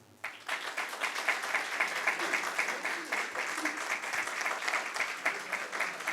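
A group applauds during a lecture, dense continuous clapping that swells briefly and holds at a steady level for several seconds without a break.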